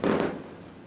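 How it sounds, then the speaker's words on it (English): A single firework bursts loudly over a dirt-track speedway during post-race celebrations, the sharp boom decaying into a fading rumble within a second, with no voices. "As local fireworks lighting up the sky here at the Big O."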